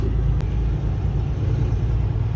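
A truck rolls along the road with a steady, close engine rumble and road noise throughout, no talk over it.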